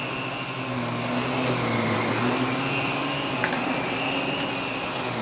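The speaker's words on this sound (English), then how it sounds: "this power nozzle is nice because it's got a height adjustment" A vacuum cleaner with a height-adjustable power nozzle runs over carpet, a loud, steady, close droning roar with a whining motor tone that holds level throughout.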